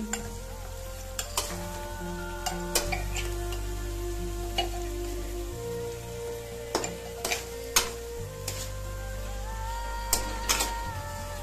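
Chicken curry being stirred in a pan, a spoon scraping and knocking against the metal in sharp irregular clicks over a faint sizzle and a steady low hum.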